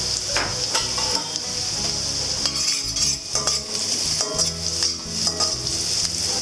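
Scallion whites stir-fry in a wok with no added oil, for silver-fish egg fried rice, giving a steady loud sizzle broken by repeated scrapes and clinks of a metal spatula tossing them, close and with no voices.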